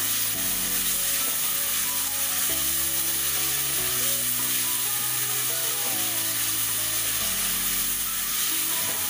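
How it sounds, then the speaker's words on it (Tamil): Ginger garlic paste sautéing in a hot pan gives a steady, dense sizzle that holds throughout, with background music playing underneath. "நெக்ஸ்ட் இஞ்சி பூண்டு பேஸ்ட்டு சேர்க்குறேன் பச்சை வாசனை போகிற வரைக்கும் கொஞ்சம் வதக்கி விடுங்க"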